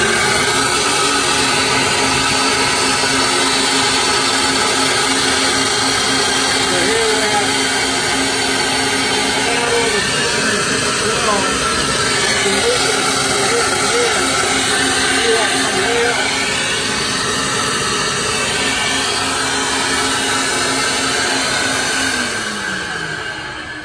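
An engine shop flow bench roars with a loud, steady rush of air drawn through a cylinder head port, holding constant for a long stretch and tapering off near the end as talking carries on over it.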